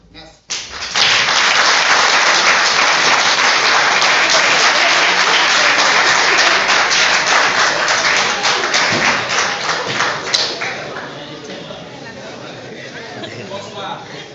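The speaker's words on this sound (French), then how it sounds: "Pour la salle, vous avez le droit d'applaudir" Loud, sustained applause from an audience in a hall during a French debate event, dense clapping filling the room for about ten seconds before thinning out, with some chatter mixed in.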